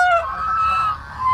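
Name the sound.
ducks or geese honking on a farm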